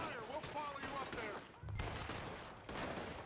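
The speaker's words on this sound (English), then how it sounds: "I gotta shoot it, don't I?" Gunfire in the Red Dead Redemption 2 video game: several sharp shots mixed with game effects and a low thump, heard under speech and at moderate volume.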